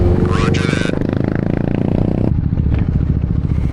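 Motorcycle ridden on a city road, a steady close engine drone with wind rumble while the rider turns around on a bridge, a voice talking over it.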